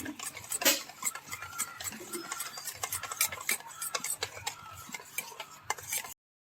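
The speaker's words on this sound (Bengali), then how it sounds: "গুঁড়ো দুধটাকে ভালো করে গুলিয়ে নিব।" Powdered milk being stirred with yogurt starter to dissolve it, a steady run of small clinks and scrapes of a spoon against the bowl, close and fairly quiet, no voices.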